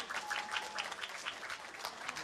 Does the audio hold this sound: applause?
yes